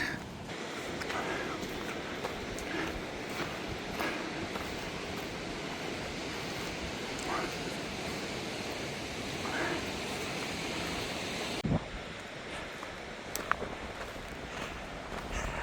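Creek in the Grand Canyon below Manzanita Rest Area, a steady broadband rush of flowing water heard up close for the whole stretch, with a few faint footsteps or handling knocks near the end.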